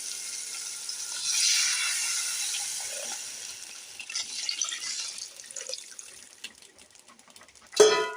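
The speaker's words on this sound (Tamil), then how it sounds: "இப்போ நம்ம கரைச்சி வச்ச அந்த புளி கரைசலை இதில் ஊற்றிடலாம்" Tamarind water poured into a pan in a steady splashing stream that tapers to trickles and drips, followed by a short, sharp splash at the end.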